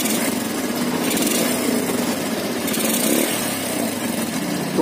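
A 2012 Yamaha Byson motorcycle engine with a knocking fault and white smoke runs close by, giving a continuous raspy, buzzing drone under light throttle at fairly steady loudness.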